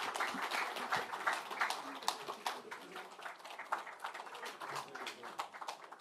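A hall of assembled party lawmakers applauds three candidates for National Assembly deputy speaker at a People Power Party caucus. The clapping is dense and steady, with many hands sounding together for about six seconds.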